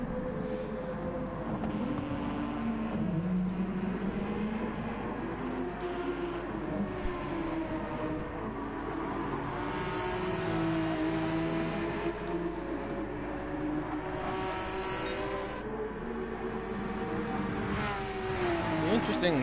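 Old and new Porsche race cars in a racing video game round through Kyoto, engines droning and shifting pitch steadily under continuous commentary talk.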